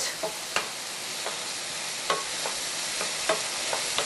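Zucchini sizzles steadily in a skillet for a zucchini hot dish, a constant close frying hiss broken by occasional soft stirring clicks and scrapes, with no voices.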